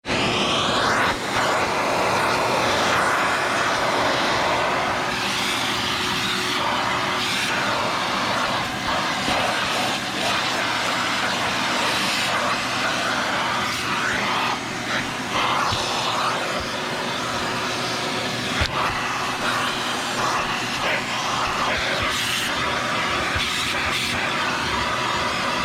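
A wall-mounted shop vacuum roars loudly and steadily at close range for the whole span, a dense, unbroken rushing drone with no speech.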